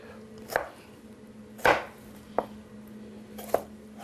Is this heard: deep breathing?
no